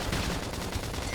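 Rapid gunfire in Xenoblade Chronicles X, a brief burst of continuous automatic shooting at steady loudness, with no talk over it.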